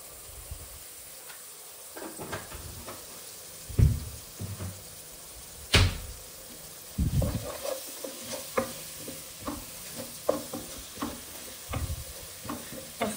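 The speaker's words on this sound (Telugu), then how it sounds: "ఈ పచ్చిమిర్చి అనేది కొంచెం వేగనివ్వాలి." Green chilies frying with a little turmeric in a pan, giving a soft steady sizzle broken by intermittent scraping stirs and clinks of a spoon, close and alone without talk.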